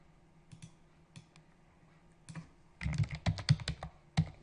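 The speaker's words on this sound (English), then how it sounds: "start typing the word price" Computer keyboard typing in short bursts of crisp clicks while a word is entered, sparse keystrokes at first and then a faster, denser run of close, moderately loud taps with no talking.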